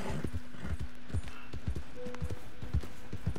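Horse hooves clip-clop at a steady trotting rhythm in Red Dead Redemption 2, close and distinct over a low ambient bed, with a faint tonal hum running underneath.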